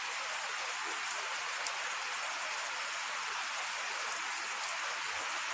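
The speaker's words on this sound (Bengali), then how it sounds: "প্রচুর জোরে বৃষ্টি হচ্ছে।" Heavy rain falls on a cold day, an even, unbroken hiss that fills the whole stretch at moderate loudness, with no voices.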